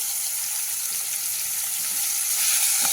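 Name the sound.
sautéing onion and tomato in a pan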